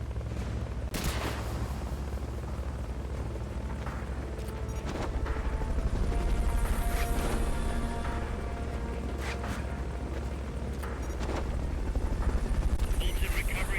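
A Fulton recovery helicopter in Metal Gear Solid: Peace Walker drones with a steady low rotor rumble throughout, while sharp gunshots and short bursts of fire crack over it at intervals.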